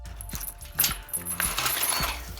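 Metal keys jangling in short clinking bursts while being grabbed, close and moderately loud over a low outdoor rumble.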